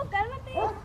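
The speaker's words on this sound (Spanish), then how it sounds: "Con los perros." Dogs at a family home whimper in thin, rising whines, mixed with soft yips, close by and fairly faint over a steady low background.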